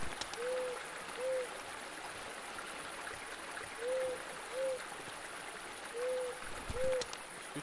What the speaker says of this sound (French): Oh, ça c'est l'oiseau.